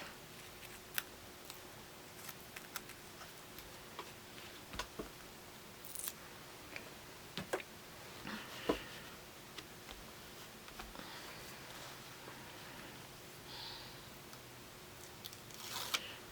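Scissors snip through excess handbag fabric in a series of sparse, sharp cuts, quiet and close, spread out with pauses between them and no talking.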